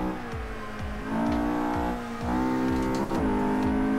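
Mercedes 190E race car engine revving hard and accelerating up through the gears, heard close from onboard, with steady rising harmonics, brief dips at each shift and a rhythmic low thumping underneath.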